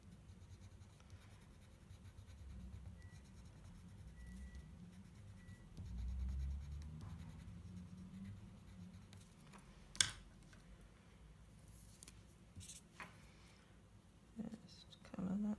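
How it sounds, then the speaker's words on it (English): Coloured pencil or marker scratching across white shimmer cardstock while a paper flower is filled in, a soft steady scratching texture near and quiet, with brief taps and bumps. "And then I'm going to put a little bit of colour in this flower."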